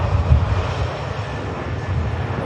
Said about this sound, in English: And just coming past us is the Aer Lingus.